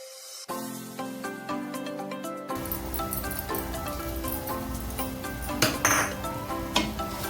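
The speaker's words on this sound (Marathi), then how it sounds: "आता या पालकच्या भाजीवर ही खमंग फोडणी ओतून घेऊया।" Hot tempering hits spinach and pea curry in a pan with a sudden sizzle, followed by steady frying hiss and metallic clinks of a spoon against cookware, close and moderately loud.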